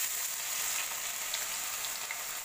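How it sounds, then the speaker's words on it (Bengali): Ginger, garlic and onion paste fries in hot oil with a steady, dense sizzle that holds loud and even for a couple of seconds before cutting off abruptly. "আদা রসুন আর পেঁয়াজ আমি পেস্ট করে রেখেছি, সেটা আমি তেলের মধ্যে দিয়ে দিব।"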